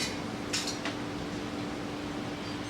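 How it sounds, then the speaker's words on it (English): Frozen peas tipped into a casserole dish while making a keto shepherd's pie make two quick, light rattling clatters close by over a steady low background hum. "I'm going to add some peas."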